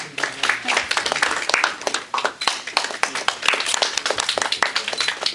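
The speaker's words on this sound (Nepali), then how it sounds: "कृपया ताली बजाउन कन्जुसाइ नगरौँ।" An audience at a journalists' association annual convention claps for the chief guest. The applause is dense and continuous, close and loud, with many overlapping claps rising and falling.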